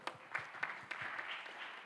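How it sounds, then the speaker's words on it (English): Audience applause at a corporate safety leadership panel session, a brief burst of scattered clapping with a few sharper claps standing out, moderately faint and steady throughout. "So please, let's clap for them."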